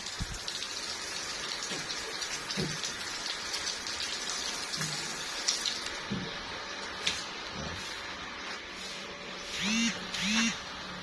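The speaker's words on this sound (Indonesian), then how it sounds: "Kemudian saya hidupkan air mengalir di kolam ini" Water runs steadily through a snakehead fish pond, a continuous close gushing and splashing with occasional drips and bubbling sounds over it and someone speaking briefly in the background.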